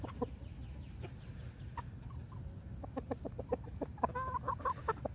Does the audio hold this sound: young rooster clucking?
yes